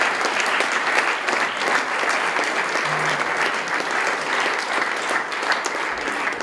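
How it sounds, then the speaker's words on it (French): A church congregation at a French-language evangelistic gathering breaks into sustained applause for the Lord, a steady wash of many hands clapping at once, loud and continuous from start to finish with no words spoken over it. "Est-ce qu'on peut applaudir le Seigneur?"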